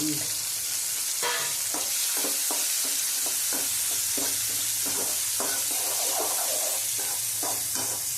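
Chopped tomatoes with ginger, green and dry chillies and bay leaves sizzle in hot oil for a Gujarati dal tempering, a loud steady frying hiss broken by repeated scraping stirs, close by, with no talking.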